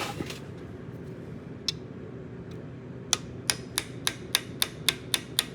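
A hammer taps a bolt to drive the old cutterhead out of a Bosch 12V planer held in a vise, a run of sharp, evenly spaced metallic taps that speed up toward the end, close and crisp over a quiet background.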